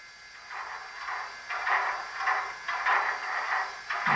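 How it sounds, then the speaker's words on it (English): Rapid rhythmic chuffing pulses of the air pump sound from an ESU LokSound decoder in a Rapido CPR H1b Hudson 4-6-4 model steam locomotive, about seven quick bursts of hiss repeating steadily, close and fairly loud. "'27's air pump fast."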